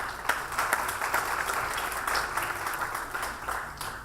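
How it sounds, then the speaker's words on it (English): A steady wash of applause from an awards ceremony crowd, many hands clapping at once, fairly even in loudness throughout with no voices standing out. "a round of applause to them"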